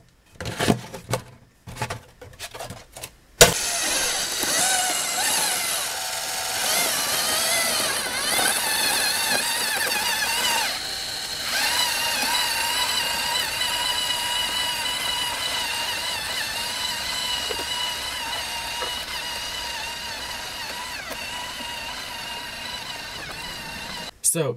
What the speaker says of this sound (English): these are LEGO Mindstorms motors